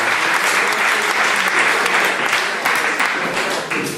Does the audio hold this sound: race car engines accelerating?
no